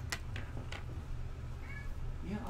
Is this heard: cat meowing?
yes